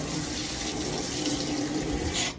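Water running steadily from a tap into a sheltered campsite wash-up sink, a constant close splashing rush that holds throughout with no talk.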